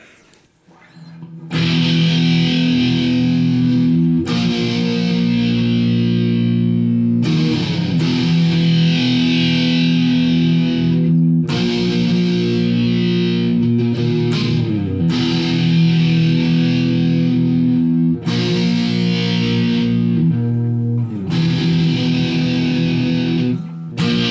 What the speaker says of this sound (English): So now we got the distortion on and the chorus again